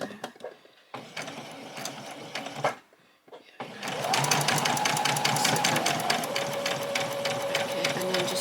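A domestic sewing machine stitches fabric pieces for a toy bunny: a few short bursts of clattering stitching, a brief pause, then a long steady run of rapid mechanical chatter with a whirring motor hum.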